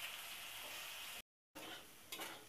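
Potatoes fry in a pan with a soft, steady sizzle. A short silent break interrupts it, and a faint clink follows near the end.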